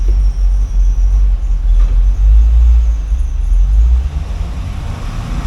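A 2013 Chevrolet Camaro SS with GFX parts, 8,000 miles, idling steadily while shifted into reverse, a loud low rumble holding throughout with a slight swell midway and no talking.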